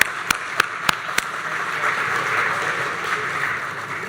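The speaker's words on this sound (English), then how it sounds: "Let's give them a round of applause" Applause for a translator at a lecture opens with four sharp, evenly spaced claps, followed by a softer, sustained wash of scattered audience clapping.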